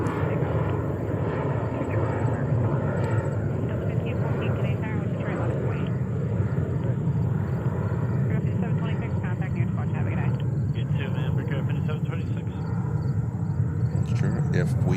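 Heavy jet airliner inbound to JFK airport, heard as a continuous rumbling engine roar at moderate distance, with voices talking over it throughout.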